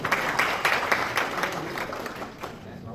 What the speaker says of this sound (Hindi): उन्होंने वास्ते जोरदार तालियां होनी चाहिए